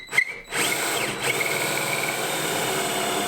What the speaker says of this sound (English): that's where I'm going to clamp it to drill.